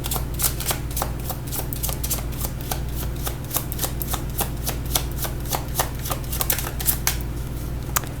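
Deck of tarot cards being shuffled, a continuous riffling patter of crisp card flicks over a low steady hum, close and moderately loud, without speech.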